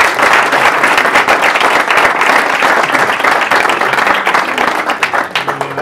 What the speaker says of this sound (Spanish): vamos a levantar la sesión con un aplauso